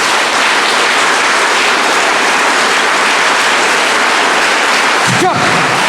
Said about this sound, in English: One more chance, last chance to clap.